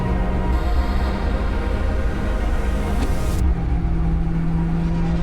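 A Hennessey Venom F5, an open-top manual 2,000-horsepower American hypercar, cruises along the Pacific Coast Highway with a loud, continuous low engine rumble and road and wind noise, steady and close throughout.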